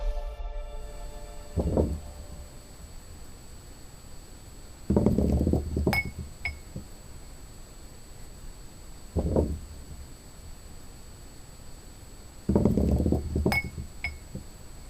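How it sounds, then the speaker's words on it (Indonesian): A glass bottle shifts and clinks in a quiet room, with several separate bursts of knocking and rattling spread out over a low, steady hum. "benda yang berupa botol kaca tiba-tiba bergerak dengan sendirinya"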